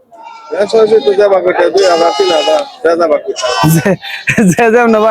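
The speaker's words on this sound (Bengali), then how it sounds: "এই যে পাশে দেখছেন প্রচুর ছাগল কিনে রেখে দিয়েছে" Goats at a busy rural goat market in Bangladesh bleat loudly and repeatedly, several close animals overlapping in wavering cries with little pause between them.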